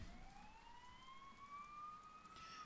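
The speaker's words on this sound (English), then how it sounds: "You hear sirens nearby." Police sirens in the video game Persona 4 Golden wail with a steady rising sweep, faint and distant behind a low background hum, with no talking.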